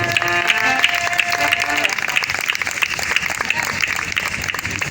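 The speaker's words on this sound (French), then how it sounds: "Est-ce que tu peux acclamer pour la parole?" Church congregation applauding and cheering at a crusade gathering, a steady dense wash of clapping and voices that holds at an even loudness throughout, with a sustained singing or shouted tone early on.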